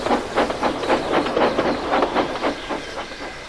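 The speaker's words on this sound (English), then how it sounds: "Each morning, Donald and Douglas took it in turns to bring a ballast train from the small railway" A steam engine pulling a ballast train gives off rhythmic hissing chuffs, repeating steadily and fairly loud, with no one speaking.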